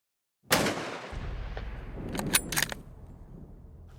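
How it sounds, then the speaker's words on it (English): A single loud rifle shot fired at a buck during a deer hunt cracks out once, its echo rolling away, followed by faint rustling and clicks. "I rushed my shot."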